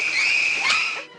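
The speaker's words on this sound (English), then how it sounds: "the screeching violins have come to represent not only the genius that is Alfred Hitchcock's Psycho, but also horror films in general" The shrill, piercing screech of a stabbing string chord from the Psycho shower scene score holds for about a second before cutting off, loud and sharp.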